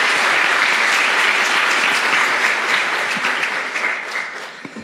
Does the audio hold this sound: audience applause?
yes